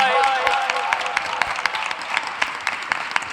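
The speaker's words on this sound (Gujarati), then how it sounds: "એકવાર ફરી બોસ્ટનના મંડળને આપણે તાળીઓથી વધાવી લઈએ." An audience at a youth meet applauds steadily, with dense, sustained clapping and a voice speaking over it at the start.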